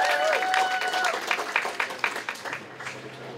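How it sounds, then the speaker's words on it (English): A crowd at an outdoor union rally in San Francisco protesting ICE claps and cheers for a speaker. Brief voices open the burst, and the loud applause then thins and fades. "Round of applause for Yadira for being here."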